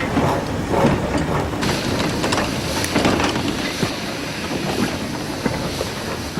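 A 1951 Hunslet Austerity industrial steam locomotive, number 3767, working in Wales gives a steady, loud, broadband rumble and rush throughout, with wind buffeting the microphone and no voices.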